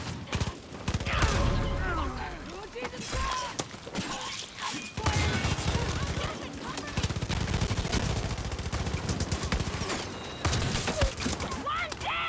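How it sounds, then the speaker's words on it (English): Dense, near-continuous gunfire crackles from all sides during a firefight in the video game Far Cry New Dawn, with rapid bursts and shots layered over one another throughout and a voice speaking briefly amid the shooting. "There's just bullets from every direction."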